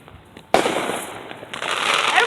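Fireworks burst at night in a residential neighborhood, a sudden sharp bang followed by loud crackling and sizzling that swells again with a second burst, fairly near.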